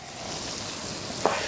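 Mushrooms frying with lamb shoulder in a pan, a steady close sizzle that continues without pause, with one small clack near the end.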